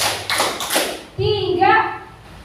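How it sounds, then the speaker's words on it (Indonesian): A group claps their hands in a short counted pattern during a teacher discussion session: a few sharp claps in quick succession, followed by a voice speaking. "Ulangi ya, tepuk satu, tepuk dua, tepuk tiga"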